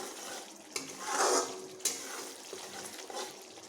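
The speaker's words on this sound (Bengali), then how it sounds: "এইভাবে আমি মশলাকে বেশ ভালোভাবে কষিয়ে নিচ্ছি" Spices sautéing in a pan for a papaya and potato curry: a soft sizzle with occasional scraping stirs and a couple of sharp utensil knocks, close and moderately quiet.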